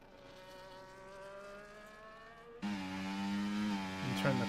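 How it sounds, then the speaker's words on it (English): V6 hybrid turbo Formula 1 cars race in a video game at Bahrain qualifying, a steady whining engine note that jumps abruptly louder and higher partway through, then climbs and shifts like a car accelerating through gears. "turn the car volume up so you can hear those V6 hybrid turbo engines at their maximum glory"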